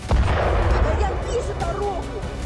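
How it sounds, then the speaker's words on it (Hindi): Deep booming blasts and heavy rumbling from explosions at a weapons depot in Krasnodar, Russia, roll on continuously, loud and low, with a voice faintly audible beneath the noise. "जबरदस्त धमाके की ये तस्वीरें रूस के क्रास्नोदर में मौजूद हथियार डिपो की हैं"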